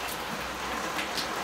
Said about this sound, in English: I'm ready to water the sand now